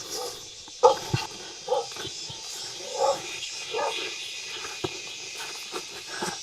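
Dogs bark in a remote, isolated mountain village, with a few sharp barks and yips spaced irregularly at moderate distance over a quiet outdoor background.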